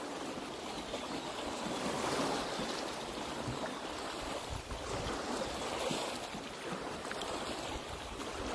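Ocean waves washing onto the shore on an early morning, a continuous loud rushing surf with gentle swells, heard alone without voices.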